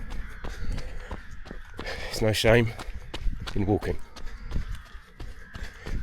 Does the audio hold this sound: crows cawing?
yes